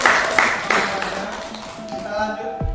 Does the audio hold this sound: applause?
yes